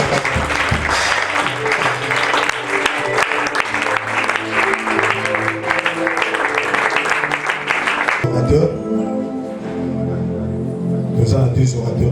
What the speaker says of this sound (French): Pendant qu'il s'approche, sous vos acclamations.